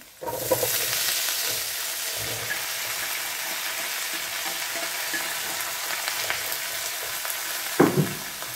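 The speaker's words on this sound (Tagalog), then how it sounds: "Ayan mga idol, medyo brown na yung ating bawang at sibuyas. Then, pwede na natin ilagay yung ating langka." Garlic, onion and jackfruit sauté in a hot pan with a steady close sizzle, broken by a few scraping stirs and a louder clatter near the end.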